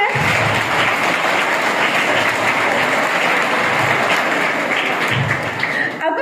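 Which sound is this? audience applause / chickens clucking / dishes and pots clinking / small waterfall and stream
audience applause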